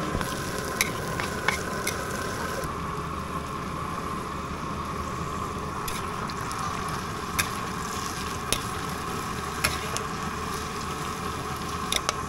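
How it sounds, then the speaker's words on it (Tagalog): Snails fry in hot cooking oil in a large pot, giving a steady, dense sizzle that runs unbroken through the whole stretch, with a few sharp crackles and pops. "lumalagitik na yung palagitik ni Boss A"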